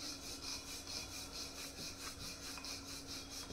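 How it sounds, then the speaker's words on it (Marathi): A rolling pin works shankarpali dough flat on a board, giving a soft, rhythmic rubbing and scraping with repeated back-and-forth strokes, faint and close, over a low steady hum. "आता आपण हा लाटून घेणार आहोत।"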